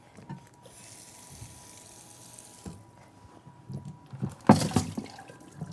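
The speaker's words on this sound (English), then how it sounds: "So I'm just gonna give this a quick rinse." Tap water runs into a sink while garlic is rinsed under it, a steady moderate hiss with brief splashes and a louder gush near the end.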